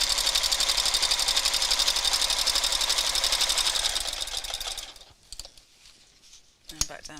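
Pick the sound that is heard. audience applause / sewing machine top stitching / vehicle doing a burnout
sewing machine top stitching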